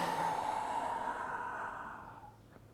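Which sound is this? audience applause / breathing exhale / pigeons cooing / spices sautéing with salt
breathing exhale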